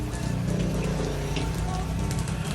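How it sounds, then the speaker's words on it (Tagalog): Heavy rain pours down steadily and close by, a dense continuous patter on the surface with no letup, a faint voice barely present beneath it. "Naabutan na tayo ng ulan."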